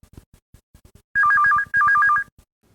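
Telephone ringing in two loud electronic warbling bursts close by, each about half a second long with a short gap between, preceded by faint ticking.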